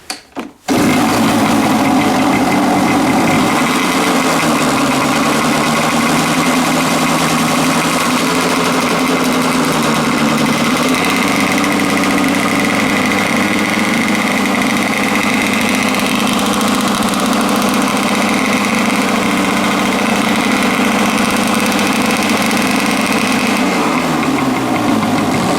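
A cheap, messy Kawasaki dirt bike engine starts and runs loud and close, holding a steady, buzzy idle with a rough, knocking edge and small shifts in pitch for about twenty-five seconds.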